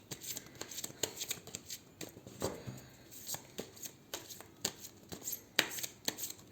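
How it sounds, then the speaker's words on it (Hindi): A deck of large angel guidance cards being cut and handled by hand, giving a steady run of soft riffling, flicking and tapping sounds, close and fairly quiet. "जो थोड़े से बड़े बड़े कार्ड्स होते हैं ना वो शफल नहीं होते हैं तो हम फिर कट करके लेंगे"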